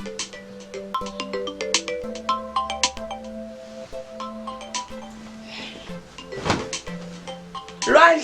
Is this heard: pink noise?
no